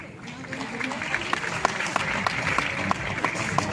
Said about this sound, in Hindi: करताली